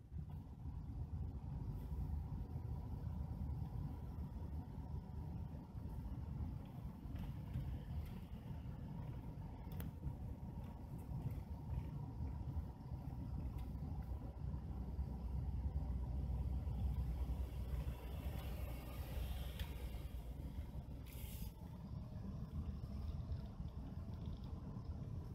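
Passenger cars behind the 611 steam locomotive roll past in a steady, loud low rumble that swells slightly near the middle and carries on without a break.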